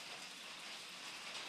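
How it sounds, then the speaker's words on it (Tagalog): Light, steady rain falls outside, a soft continuous hiss of drops with no break and no talking, faint and even throughout. "Itong ulan na ito, itong ulan na"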